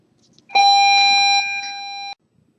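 A school bell rings in a classroom during a precalculus lesson, one steady electronic tone held loud and unbroken for about a second and a half before cutting off sharply.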